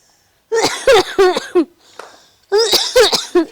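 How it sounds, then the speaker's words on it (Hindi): Several harsh, voiced coughs come in two clusters, close and loud, separated by a brief pause. "ए बहनी हमारो खांसी फांसी आवता"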